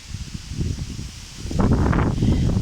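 Autumn wind picks up outdoors and sets fallen leaves rustling, soft and patchy at first, then a louder, fuller rushing hiss in the second half.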